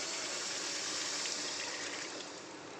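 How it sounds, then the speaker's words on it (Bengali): Water poured into a simmering fish curry gravy for tel koi, a steady broadband splashing rush, close and fairly loud, running continuously for a few seconds and easing slightly at the end. "চলো পরিমাণ মতন জলটা দিয়ে দেওয়া যাক,"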